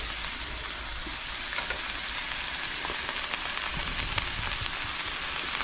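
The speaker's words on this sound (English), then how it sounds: "We'll get these vegetables started sauteing," Vegetables sauté in a hot pan with a steady, dense sizzle and crackle that holds without a break, close and fairly loud, with no talking.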